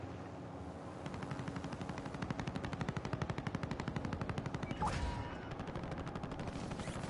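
Rapid automatic gunfire sounds in a Call of Duty Warzone match on Rebirth Island: a sustained stream of fast shots at moderate distance, with a brief sharper burst near the end, over constant background din.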